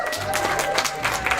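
A room audience breaks into applause, a dense patter of many hands clapping at moderate volume, with crowd noise and voices mixed in.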